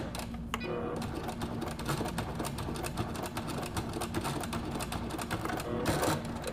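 Sewing machine stitching satin binding onto a baby blanket, a steady rapid mechanical whir with dense needle clatter running continuously throughout, close and fairly loud with no talk.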